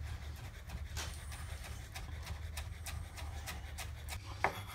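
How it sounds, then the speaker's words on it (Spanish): Knife chopping fresh cilantro on a cutting board for Peruvian ceviche, a steady run of light, quick taps over low background hum, ending with a sharper knock near the close. "lo picamos en dos veces."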